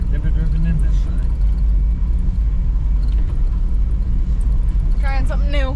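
A vehicle on a dairy farm rolls into a driveway with a steady, close low engine rumble throughout, while people talk briefly near the start and end.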